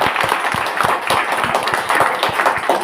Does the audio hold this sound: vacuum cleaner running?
no